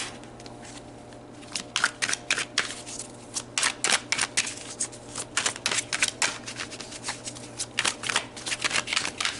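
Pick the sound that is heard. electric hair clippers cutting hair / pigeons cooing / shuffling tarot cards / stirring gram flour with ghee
shuffling tarot cards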